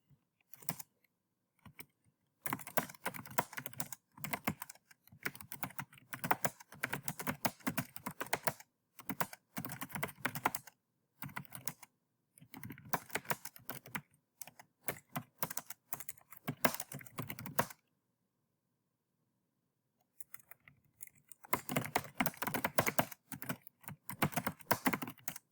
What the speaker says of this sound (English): So I've typed in my message.